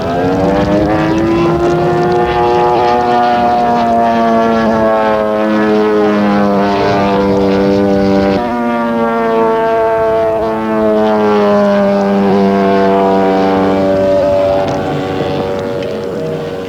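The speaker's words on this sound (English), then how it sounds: "After 12 years of flying, the Jungmeister is still going strong and is fully aerobatic" A Bücker Jungmeister aerobatic model plane flies overhead, its engine drone held loud and steady with pitch swells and shifts as it manoeuvres, heard alone throughout.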